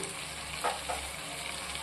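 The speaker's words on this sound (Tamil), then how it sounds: "தேங்காய் சேர்த்து ஒரு ரெண்டு நிமிஷத்துக்கு நல்லா வதக்கிடலாம்" Steady sizzling of coconut pieces sautéing in a hot pan for anchovy fish curry, with a couple of soft scraping stirs partway through; no voices.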